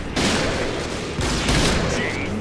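A BORA-12 sniper rifle firing in a Point Blank shooter video game, two heavy booming shots about a second apart with dense noisy background, loud and close.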